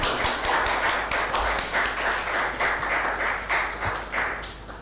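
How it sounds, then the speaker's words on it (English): An audience at an aerospace symposium gives a round of applause, a fairly sparse crowd clapping in distinct, audible individual claps that swell and dip in rhythmic pulses across the clip. "Big round of applause."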